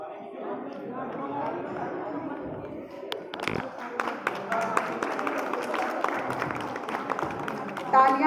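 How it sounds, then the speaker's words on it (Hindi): Audience applause and murmuring crowd at a state-level book launch event in Ayodhya, starting as chatter and building into steady scattered clapping through the second half, with voices underneath. "तालियां बजती रहनी चाहिए"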